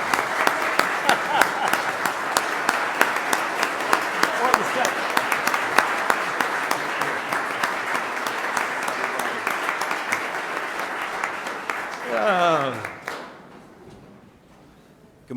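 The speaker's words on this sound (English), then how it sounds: "please give a warm welcome, round of applause for our County Executive, Ryan McMahon III." An audience at a county budget presentation applauds to welcome the county executive, a sustained dense roll of clapping that swells briefly near the end, then fades out quickly into quiet.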